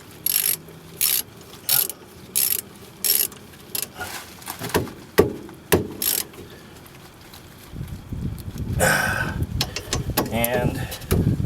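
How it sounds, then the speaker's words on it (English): Ratchet wrench turning a 14 millimeter bolt during rear brake replacement on a 2011-2015 Kia Sportage, a rapid series of loud clicking bursts in even rhythm, then heavier clunks and rustling toward the end. "It's a 14 millimeter. Alright, grab your wrench."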